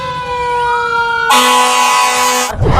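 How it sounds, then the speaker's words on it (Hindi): Loud, close siren wailing on steady tones, switching abruptly to a harsher, brighter blare before cutting off, with no voices over it. "हर तरफ बज रहा है पुलिस का सायरन"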